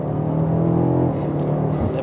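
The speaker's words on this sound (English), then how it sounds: "It's just such a good engine. Makes a lovely noise as well." A BMW X5M's engine, the same unit as the F90 M5, holds a steady, loud rumble for a couple of seconds, with faint talk over it.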